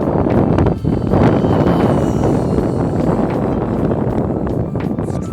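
Strong gusting wind buffets an outdoor microphone, a loud continuous low rumble with rustling bursts that holds steady throughout, no voices over it.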